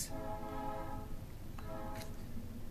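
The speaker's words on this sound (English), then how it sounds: "there's a train going by" A faint, distant train horn sounds twice over a low rolling rumble of rail traffic, with no one speaking.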